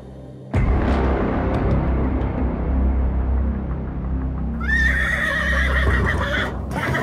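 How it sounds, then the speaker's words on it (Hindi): Horses at a national health institute's antivenom facility, kept for venom injections to raise antibodies; a loud whinny rises midway over constant stable noise and clopping, continuous and close with no talk. "कौमी इदारे सेहत के इस शोबे में लगभग 140 घोड़े हैं।"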